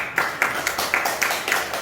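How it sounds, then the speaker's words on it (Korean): An audience claps together in a short burst of quick, sharp hand claps, close and fairly loud, with a few stronger accents standing out above the steady patter. "박수 한번 쳐주세요"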